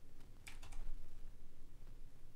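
Computer keyboard keys clicking during a video game, a brief cluster of a few quick taps near the start, fairly faint over a low steady background hum.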